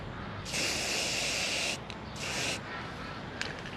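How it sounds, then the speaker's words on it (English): Two hissing bursts from a spray can of self-etching primer onto the bare metal of a Chevrolet Monte Carlo, the first long and the second short, sound close and clear against a quiet background. "I'm gonna spray some self-itching primer on top of this bare metal"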